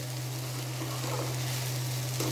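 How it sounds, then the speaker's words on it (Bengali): Rice grains frying in oil in a pot for Bengali pulao, giving a steady, close, even sizzle with no pauses, heard alone over a low constant hum. "ভাজা ভাজা হয়ে গেল চালটা"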